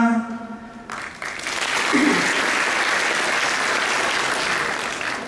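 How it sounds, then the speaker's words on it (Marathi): An audience at a Marathi Language Day lecture for students breaks into applause after a brief sung or spoken line, the clapping swelling into a full, sustained round that fills the room and holds steady before easing slightly. "जिथं आवडेल तिथं टाळ्या वाजवा"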